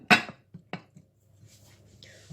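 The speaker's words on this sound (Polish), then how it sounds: "przykrywamy nasze naczynie." A sharp clatter of a lid being set on a baking dish of fish, followed by a second lighter knock and a few soft clinks in a quiet kitchen.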